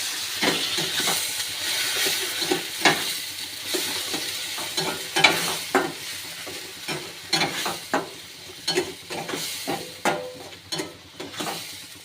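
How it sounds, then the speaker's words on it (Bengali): Spices with Kashmiri chilli powder and garam masala sauté in a pan, a low frying sizzle under repeated irregular scrapes and knocks of a spoon stirring, close and continuous with no talking. "দেব কাশ্মীরি লঙ্কা গুঁড়ো, দেব গরম মশলা। এবার অল্প আছে আমি এটা কষে নেব।"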